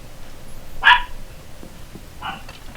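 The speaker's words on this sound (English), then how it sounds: "That's my dogs going off." Dogs in the video game Rainbow Six: a single sharp bark, then a fainter second bark about a second and a half later, over quiet background game noise.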